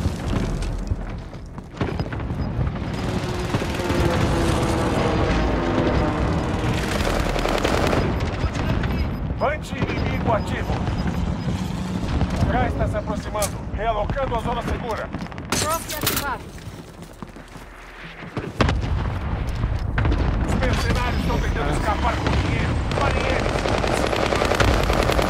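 Intense gunfire and explosions from an incoming allied airstrike in Warzone, with rapid machine-gun bursts and heavy booms running nearly continuously, briefly easing before resuming loud; game voices speak over the barrage.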